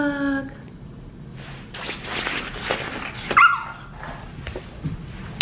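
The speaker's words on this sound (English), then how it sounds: "This is my puppy son, little D-Dog" Dwight, a puppy, lets out close, fairly loud yips, whimpers and short barks in irregular bursts, preceded by a brief high whine.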